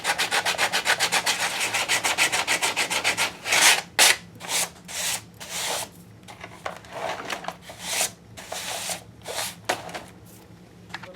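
Sandpaper rubs a surface in a fast, rhythmic series of scratchy back-and-forth strokes at first, then slower, irregular separate swipes with short pauses, close and clear with no talking.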